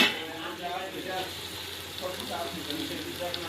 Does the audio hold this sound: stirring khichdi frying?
yes